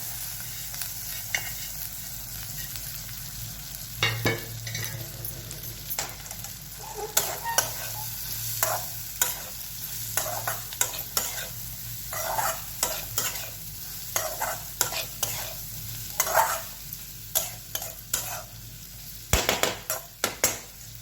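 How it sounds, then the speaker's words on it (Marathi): Roasted cluster beans are added to a pan and stir-fried, with a constant sizzle and frequent scraping, clinking strokes of a spatula, close and busy throughout. "आणि आता टाकणार आहे भाजलेली गवार।"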